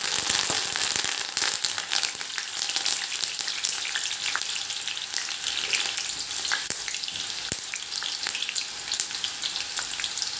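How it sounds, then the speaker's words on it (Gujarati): Curry leaves hit hot oil and set off a loud, busy sizzle with sharp popping crackles scattered throughout, close and sustained, no speech. "આ લીમડીના પાન પણ એડ કરી દઈશું"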